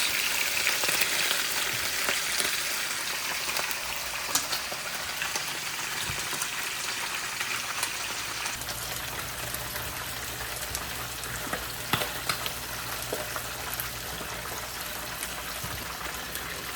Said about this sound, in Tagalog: yung piniprito ko maingay